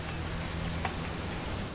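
Steady rain falling in What Remains of Edith Finch, an even hiss of drops with a low hum underneath, unbroken throughout.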